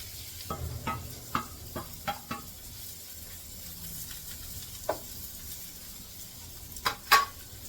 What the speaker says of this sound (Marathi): राहिलेला मसाला पण असा इथे तव्यावर परतून घेते